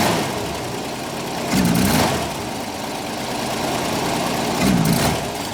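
A 1965 Ford Mustang engine, just started and suspected of a carburetor fault, running steadily, then swelling briefly and bogging twice as the throttle is pressed, close and moderately loud with no voices.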